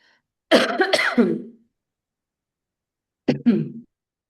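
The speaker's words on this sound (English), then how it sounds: "I'm like coughing a lot." A person coughs twice up close, a harsh multi-burst cough followed a few seconds later by a shorter one, with silence in between.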